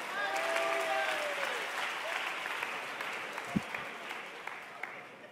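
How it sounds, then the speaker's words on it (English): Applause from a church congregation after children's pop-lock dance in front of the whole congregation, a broad sustained patter of many hands filling the room, fading gradually over several seconds. "Give them a round of applause, y'all."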